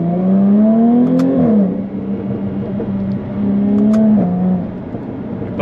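A Jaguar F-Type S convertible with a 380 hp engine pulls hard under acceleration. Its rising engine note falls away at a gear change, then climbs again in a second steady pull, loud and close, with no talking.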